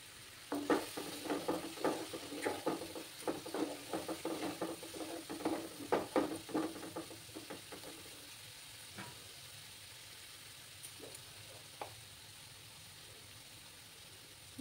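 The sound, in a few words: egg curry masala stirred and sautéed with water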